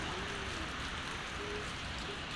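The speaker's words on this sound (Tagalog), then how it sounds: "Umuulan pa rin dito." Steady rain falls outdoors as a dense, even hiss with no distinct drops, continuous and fairly close for a couple of seconds.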